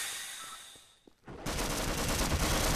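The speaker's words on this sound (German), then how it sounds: "Da ist irgendwo ein Geschütz." Automated turret in Half-Life: Source opening up with a sudden, dense stream of loud automatic gunfire after a brief lull. The shots run together into a continuous rattle that lasts to the end.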